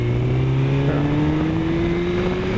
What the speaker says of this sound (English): And we have a car in the front.